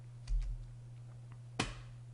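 A single sharp key press on a computer keyboard, like hitting Enter, lands near the end as a lone close click, after a couple of softer taps earlier over a steady low electrical hum.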